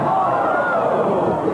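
A crowd at a 1986 professional bowling tournament lets out a loud, sustained collective groan and murmur of reaction, a brief swell of many voices close together.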